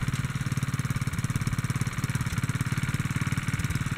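A 1957 Wheel Horse RJ-35 garden tractor's small engine runs steadily nearby, a loud, even, rapid low chugging throughout, with no one talking.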